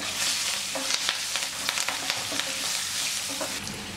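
Curry leaves, green chillies and turmeric fry in hot oil for lemon rice, giving a bright continuous sizzle with irregular crackles and stirring taps, close up and without voices.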